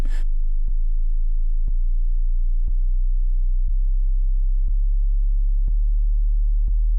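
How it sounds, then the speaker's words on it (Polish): Low sine tone sweeping from C0 to C3 through a Neumann studio monitor, picked up by a measurement microphone at the bass reflex port, a steady loud hum marked by faint regular clicks about once per second. "Na monitor dostarczany jest sygnał sinusoidalny przestrajany od C0 do C3."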